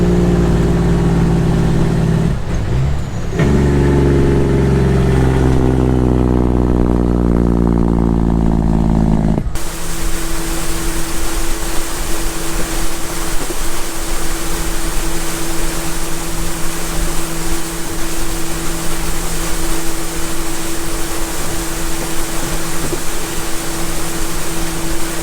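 A 60,000-pound Quadtrac tractor engine rumbling steadily at close range, a loud constant drone with a strong low hum that continues unbroken for about fifteen seconds after an earlier shift in pitch.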